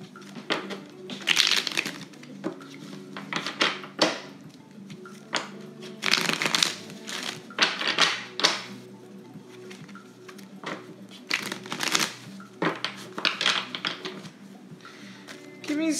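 Tarot cards shuffled and riffled in quick bursts of crisp papery flicks, close and moderately loud, separated by short quieter gaps over a low steady background hum.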